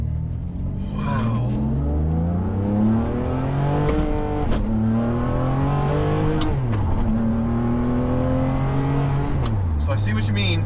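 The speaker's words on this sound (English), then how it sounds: "It's just, it's too fast a revving engine." Ferrari 599 with a gated manual swap, its engine loud and close as it revs up through the gears in repeated climbing pulls, each shift marked by a quick drop in pitch, with people talking over the engine.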